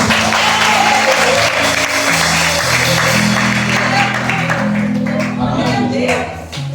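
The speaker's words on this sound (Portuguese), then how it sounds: "Uma salva de palmas para Jesus." Applause from a church congregation fills the space at full volume, dense clapping mixed with low sustained tones from music or voices underneath, tapering slightly at the very end.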